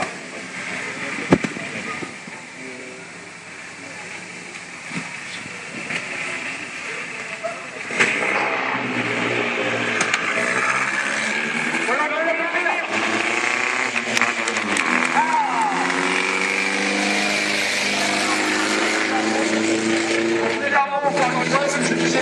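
A vintage 1924 car runs at a classic car gathering in Le Touquet, its engine chugging and revving over a steady broadband roar that grows louder and closer partway through, with voices and crowd noise mixed in.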